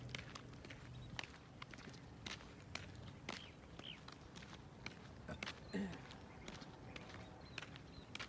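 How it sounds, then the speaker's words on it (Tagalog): Footsteps of someone walking outdoors sound as a quiet, steady series of crisp steps. They come close and continue evenly for several seconds. "Video muna tayo habang naglalakad."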